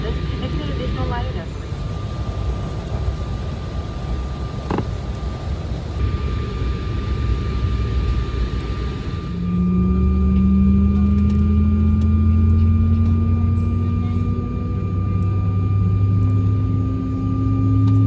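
Cabin of a Delta Connection Embraer E175 in flight from Grand Forks to Minneapolis: a continuous jet roar and airflow hiss, with a low engine tone that rises and swells partway through and holds steady to the end.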